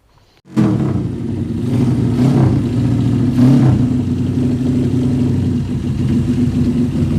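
A motorcycle engine starts up and runs loud and close, revving in a few surges as its carburetor is tuned, with a steady rough idle between the revs.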